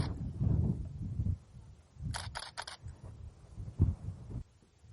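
A camera's panoramic head is rotated and clicked into place outdoors, a quick cluster of three or four crisp mechanical clicks in the middle, with soft low rumbling handling noise before and after.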